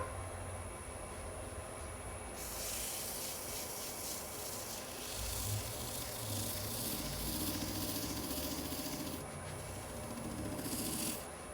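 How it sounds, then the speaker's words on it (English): A towel buffs finish into a closed-form turning on a wood lathe spinning at about 900 RPM, making a steady, loud rushing friction hiss over a low motor drone that swells through the middle and fades near the end. "I'm gonna turn the speed up now, the clean side of the towel. I'll be buffing it in right around 900 RPM."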